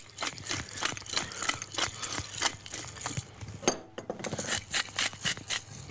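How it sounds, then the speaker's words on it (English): Anchovies pounded with a pestle in a mortar, a steady series of sharp knocking clinks with a brief pause midway, close and fairly loud, with no talking. "we're going to mush it all in, pestle and mortar"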